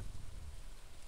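Steady rain falling in the Stardew Valley video game, a soft continuous hiss with no voices.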